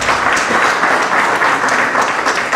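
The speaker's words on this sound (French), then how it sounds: "il faudrait applaudir pour lui aussi" An indoor audience at a book-signing event bursts into dense, loud applause that holds steady throughout.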